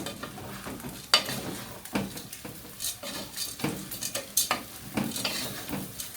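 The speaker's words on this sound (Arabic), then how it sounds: "خلاص كده حطينا شويه البصل وهنقلب تقليبه." Onions for Alexandrian yellow koshari sizzling in a pan while being stirred, with repeated scraping and clinking of a utensil against the pot in an irregular rhythm, close and fairly loud, no talking.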